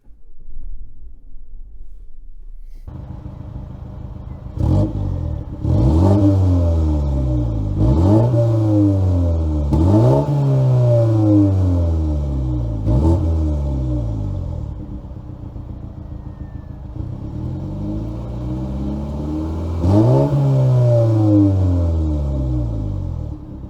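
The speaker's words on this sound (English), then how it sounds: "It's low battery, so let's start the car." A 2019 Mini Cooper S Clubman with a 6-speed manual starts up and is revved repeatedly, about six rising and falling engine swells over a steady idle, close and loud.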